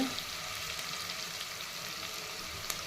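Chopped onions sauté in hot oil in a pan, giving a steady, close sizzle with light crackling throughout and no voices.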